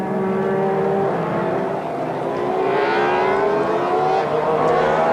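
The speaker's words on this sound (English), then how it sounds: "The car's still progressing through the hairpin behind the safety car" Touring race cars from the 1995 ITC race at Donington run as a steady engine drone, tonal whines rising and falling across several overlapping cars, continuous and fairly loud without speech.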